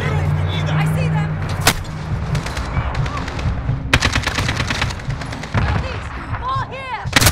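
Gunfire in the Modern Warfare campaign: repeated sharp shots and bursts scattered throughout, with a loud crack near the start and more volleys later, under shouted voices and battle noise.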